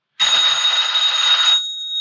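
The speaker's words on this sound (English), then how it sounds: "Oh, phone call." A telephone bell rings loudly and steadily in an old monster film, a continuous electric ring lasting over a second that then fades into a thin lingering tone, with no voices over it.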